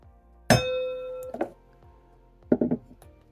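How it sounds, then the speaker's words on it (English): A wine glass knocked over without breaking gives a sharp clang at the start with a ringing tone that hangs for about a second, then a few softer clinks and thuds as it settles, close by and with no talk. "The glass didn't break, don't worry."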